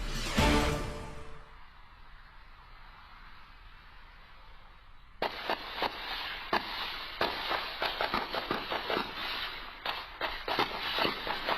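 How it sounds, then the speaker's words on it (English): A loud burst at the start, then a quiet stretch, followed by a rapid, irregular volley of sharp cracks and bangs that keeps going to the end. "That's the sound of high-powered gunshots shattering the still quiet of a Sunday afternoon"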